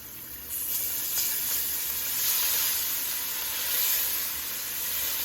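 Chopped onion, celery and bell pepper sizzle steadily in a hot pan for a shrimp gumbo, a continuous bright frying hiss that swells slightly as more vegetables go in, with no talking.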